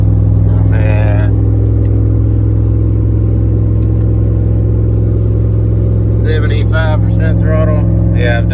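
A truck with an LQ4 6.0 engine and BTR cam towing a load uphill, its deep engine drone loud and steady throughout while someone talks over it.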